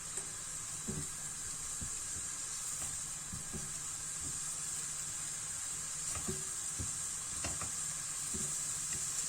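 Three large cloves of garlic sizzle steadily in a hot pan, a continuous loud frying hiss with occasional soft knocks and stirring scrapes, no talking.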